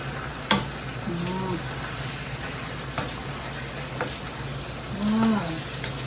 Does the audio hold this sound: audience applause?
no